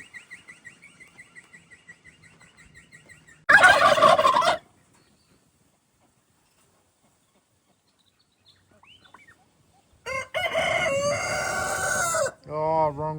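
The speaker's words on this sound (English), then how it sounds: "I want to hear him gobble." A turkey gobbles loudly and close in a green, watered outback setting along the Canning Stock Route, two bursts of rapid rattling gobbles separated by quiet, with faint bird chatter at the start.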